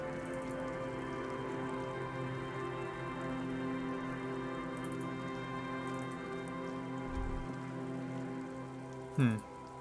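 Steady rain falls in the detective video game Disco Elysium, a soft, even hiss of drops on surfaces for about ten seconds, with a brief low thump near the end.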